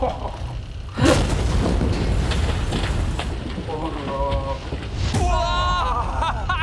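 A huge fireball explosion in a Mr Beast challenge video erupts as a loud, sudden boom with a long rumbling roar, while excited voices talk over it throughout.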